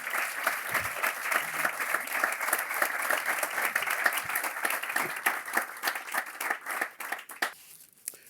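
An award-ceremony audience applauds throughout a distinction presentation at the máshumano awards, dense steady clapping that thins toward the end.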